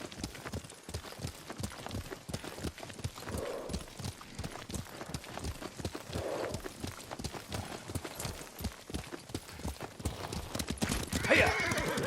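Horse in the video game Ghost of Tsushima, with steady rhythmic hoof clip-clop throughout and a whinny near the end; moderately close, no talk over it.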